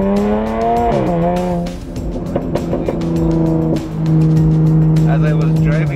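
A Jaguar F-Type with its muffler deleted roars loudly while being driven, its raw exhaust drone rising and falling in pitch as the car pulls, heard close up with a rattly, vibrating edge.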